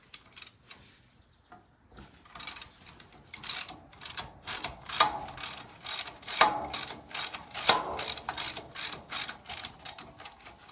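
A ratchet loosening 3/4 inch bolts on a Jaguar independent front suspension clicks in a steady run of loud, close, rapid bursts, each stroke a quick metallic ratcheting that repeats rhythmically with no talk.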